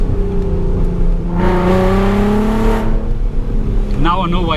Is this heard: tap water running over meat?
no